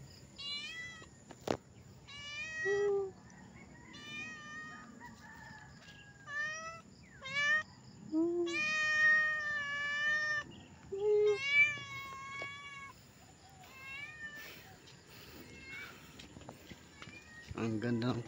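A cat meowing outdoors on a dirt path near a farm hut, a series of repeated, varied meows at close range over about fifteen seconds, with someone talking intermittently.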